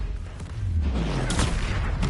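Confringo fire spell blasting in Hogwarts Legacy, a booming explosive burst with a low rumbling tail and a second sharp crackling hit, loud and close amid game combat.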